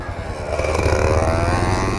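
An old Montesa enduro motorcycle engine runs steadily and loudly up close, with a rough, clattering tone that swells slightly toward the end.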